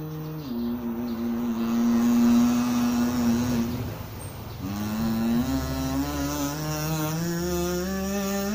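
Hohner kazoo played with a buzzing, horn-like drone holding steady pitches, pausing briefly midway, then resuming on a new note, close and loud.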